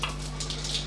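Two torn dried red chillies hit hot oil in a pan for brinjal thokku, giving a short, close burst of crackling sizzle.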